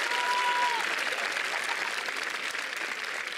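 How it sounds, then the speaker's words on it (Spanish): Audience applause at a Teletón 2024 telethon, a continuous close wash of clapping that holds steady for a few seconds. "Oh, mira, un aplauso."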